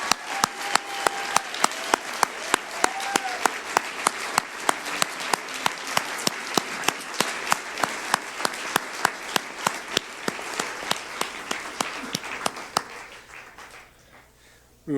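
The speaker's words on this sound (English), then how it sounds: "A round of applause." Audience at a graduation ceremony applauding, a dense steady clapping that fills most of the stretch, with a few louder sharp claps on top, then thins out and fades near the end.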